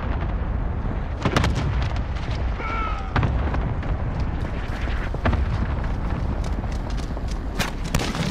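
Booming cluster strike explosions from a multiplayer shooter video game burst in several sharp, loud hits across the clip over a continuous rumbling battlefield bed, with no talk.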